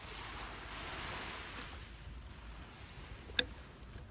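Ocean waves wash steadily onto a beach, a continuous broad rush of surf with wind noise on the microphone and one brief sharp click near the end.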